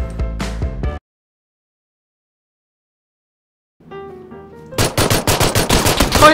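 Gunfire in the battle game PUBG: a short loud burst at the start, then silence, then rapid automatic fire in a tight repeating rhythm, loud and close, with no talk over it.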